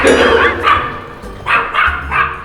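Dogs barking loudly and close, several quick barks in an uneven burst, first near the start and then in a cluster toward the end, with no talk over them.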